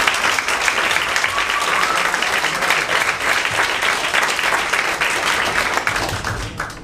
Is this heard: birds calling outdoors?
no